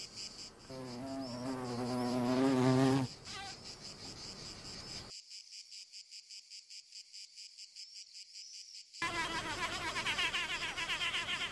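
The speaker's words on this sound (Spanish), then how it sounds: "El sonido que emite la avispa al trabajar lo producen los músculos de sus alas." Close, loud buzzing of a mason wasp's wing muscles hums with a rich vibrating drone, changing in pitch and intensity as it works mud, with brief pauses between bursts.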